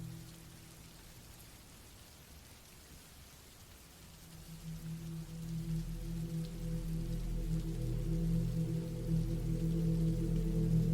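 Steady rain falling on a cabin in the woods at night, starting as a soft hiss and swelling into a heavier, constant wash of rainfall that grows louder over the final seconds, with no voices.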